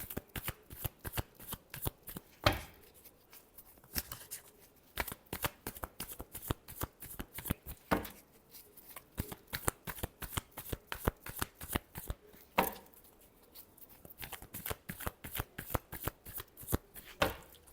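Tarot cards being shuffled by hand, a long run of crisp, rapid riffling bursts with a few sharper slaps, close and fairly quiet, with no talking.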